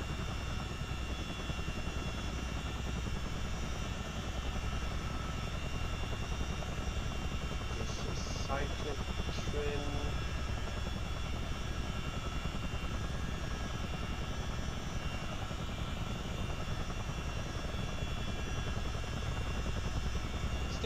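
A CH-47D Chinook's rotor drone in Microsoft Flight Simulator, a constant loud throbbing hum with a low engine rumble underneath, steady throughout with a couple of faint clicks partway.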